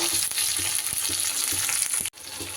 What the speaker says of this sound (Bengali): মশলাটা কিন্তু আমার ভাজা হয়ে গেছে